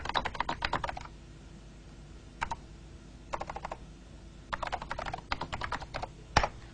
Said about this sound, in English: I can add custom menus here, and I can type.